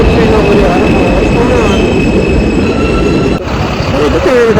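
An old subway train passes close by, with a loud continuous rumble and sustained high wheel squeal running throughout and a brief dip near the end.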